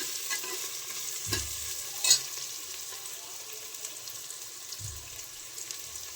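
Dry Maggi noodles are lightly fried and stirred in a pressure cooker, giving a quiet, steady sizzle with a few soft scrapes and clunks of a spoon against the pot, with no talking.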